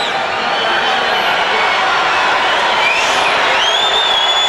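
Basketball arena crowd at a Nuggets–Suns NBA game in Phoenix, a steady loud roar of cheering with scattered whoops and whistles that holds throughout without a break.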